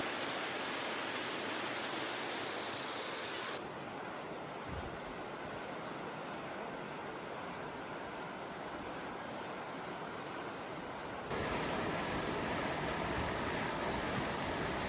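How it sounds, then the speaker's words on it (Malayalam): Steady rushing water from a small waterfall at Kanayi Kanam, Kannur, fills the clip, a constant broadband roar that shifts in level at a couple of points. "ഇവിടെ നിന്ന് ആ വെള്ളച്ചാട്ടത്തിന് ഒരു ചെറിയൊരു ഭാഗമാണ് ഇവിടെ ഈ കാണുന്നത്"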